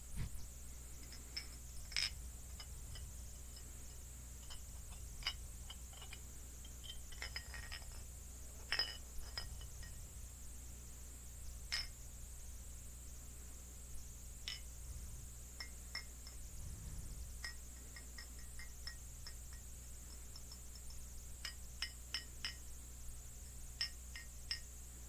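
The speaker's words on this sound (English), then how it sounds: "I have two glass bottles. And I will be tapping them together" Two glass bottles tapped together close up, with light, scattered clinks and small rattles spread unevenly over a soft background hum.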